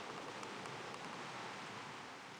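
Rain falling in the game Reverse: 1999, heard as a steady, even hiss of dense rainfall with no voices over it.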